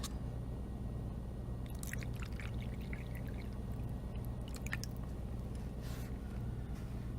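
Filtered water is poured into an oak tree terrarium: a soft, continuous trickle over a low steady hum, with brief splashy gurgles in the middle and no talking.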